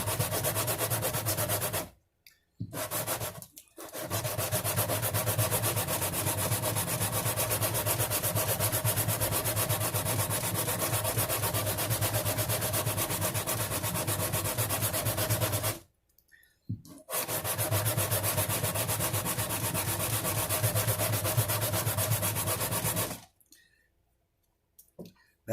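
A sanding block worked back and forth across the top of an acoustic guitar bridge to lower the action, steady close rasping strokes that run for long stretches with a few brief pauses, no voices.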